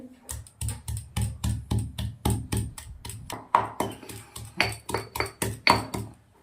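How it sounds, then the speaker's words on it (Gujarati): Homemade spices are ground by hand in a home kitchen, heard as a steady run of sharp rhythmic knocks and scrapes, roughly three per second, close and clear with no talking. "આને આપણે મસ્ત વાટી લેવાના છે"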